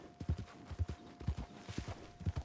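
Horse hooves clip-clop at a walking pace in a Wild West role-play video game, an even run of soft, fairly quiet hoofbeats with no talk over them.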